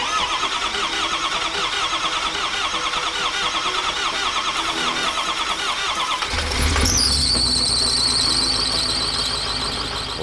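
A diesel race engine at the Pikes Peak Hillclimb, recently repaired with new push rods, cranks with a whirring starter and then fires to a loud, close, roaring idle that holds steady with a high whine on top. No voices.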